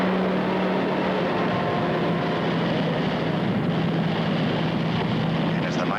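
An animated cartoon ship races across the Pacific Ocean, its dense, continuous roar of engine and rushing water holding steady and loud without pause.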